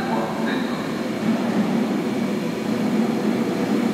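An R142A 5 Express subway train pulls out of a station toward Eastchester–Dyer Avenue, a steady rumbling roar of motors and wheels that holds loud and even throughout, with a brief higher whine early on.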